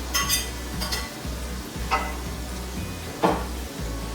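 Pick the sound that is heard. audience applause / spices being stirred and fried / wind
spices being stirred and fried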